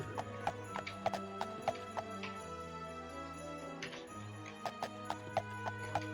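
Steady rhythmic clip-clop of horse hooves in the video game Daggerfall Unity, evenly spaced and fairly close, over a low droning background with a brief pause in the middle.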